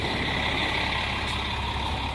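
A long double-decker city bus, route number nine, pulls up on a city street, giving a loud, steady engine rumble and road noise throughout, with no talking.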